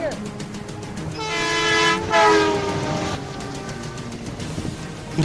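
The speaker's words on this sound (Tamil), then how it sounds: "அங்க ஒரு ட்ரெயின் வருது" A train approaches at Kayalpattinam, its horn blaring loudly over the rumbling, clattering wheels of the passing cars.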